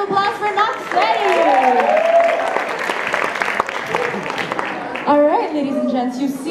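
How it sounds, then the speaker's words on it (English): An audience at a Filipino-Canadian talent show applauds a performer with loud, sustained clapping and cheering, while an emcee's voice carries over the top for most of the stretch. "Big round of applause for Noxie!"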